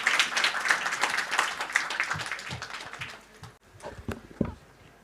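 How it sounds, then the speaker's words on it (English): An audience applauds panelists after a discussion on AI in fashion, brisk clapping that is dense at first, then thins into scattered individual claps before dying away. "Ladies and gentlemen, can we have a huge round of applause for our panelists"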